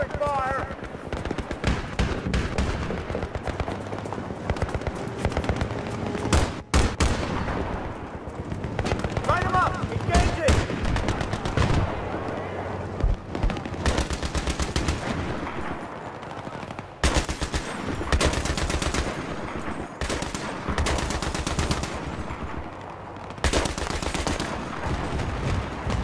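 Near-continuous automatic gunfire and heavy shooting in the Battlefield 3 combat game roar loudly throughout, with sharp louder cracks here and there and voices shouting over the din.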